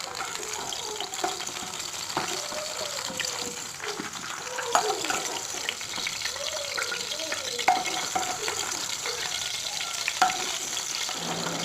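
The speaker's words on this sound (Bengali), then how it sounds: "তো আলুগুলো এখন লাল লাল করে ভাজা চলছে।" Potato pieces sizzle steadily in hot oil in a home kitchen pan for a mutton curry, a constant bright frying hiss with occasional stirring scrapes.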